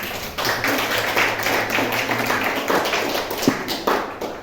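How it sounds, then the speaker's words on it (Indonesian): An audience at SMKS Al Atiq school in Banyuwangi breaks into applause, a dense, steady patter of many hands clapping close by that lasts several seconds and then thins out near the end. "Tepuk tangan dulu buat SMK."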